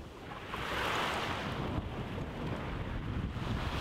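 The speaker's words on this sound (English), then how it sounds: "The wind is pretty nice and constant." Steady, loud wind rushes over the microphone aboard a sailboat on the open sea bound for Cyprus, a continuous broadband roar with faint water wash beneath and no talking.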